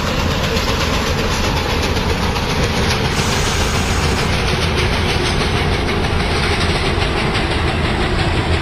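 A Long Island Rail Road train runs continuously in the Hmmsim2 simulator between Hempstead and Jamaica, giving a loud, steady rumble with rhythmic clickety-clack and a high whine.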